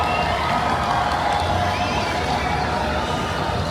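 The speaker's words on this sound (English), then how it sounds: "You can hear the crowd of people and the celebration." A crowd at a Mexico World Cup watch party celebrating a goal: a dense, continuous roar of cheering and shouting voices, loud and unbroken, with excited babble mixed in.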